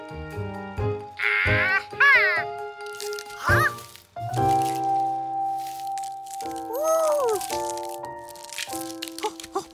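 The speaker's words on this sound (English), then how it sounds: "A duck is hatching right before my very eyes." A cartoon duck egg cracks with short rattling, crinkling snaps as a duckling hatches, followed by soft quacks and peeps, with light music underneath and brief speech.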